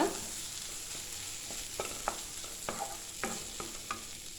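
Tomato frying with onion in a pan for Kerala-style okra curry, a soft continuous sizzle under crisp, irregular scraping clicks of a spoon stirring, close and fairly quiet, no voices.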